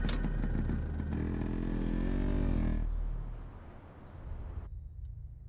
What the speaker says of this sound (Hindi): इतना शोर क्यों मचा रहे हो? जी, तुम्हारी टांगों के बीच एक बाइक है, कोई रॉकेट नहीं।